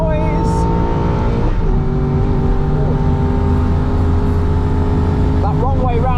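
Aston Martin V8 Vantage race car on an onboard lap of the Nürburgring, its engine a loud, continuous roar with gear changes and rising revs, heard from inside the cockpit.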